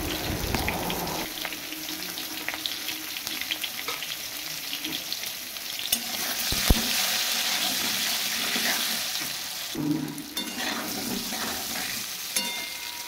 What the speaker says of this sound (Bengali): এবার নুন হলুদ পরিমাণ মতো দিয়ে এবার লাল লাল করে আমি ভেজে নেব।